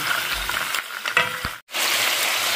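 Bone-in pork ribs for bistek Tagalog frying in a pan, a loud, dense sizzle with a few stirring scrapes and knocks, a brief dip to near silence, then the crackle returns at full strength.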